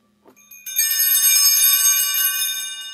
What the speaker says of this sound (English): Again, we hear the bells.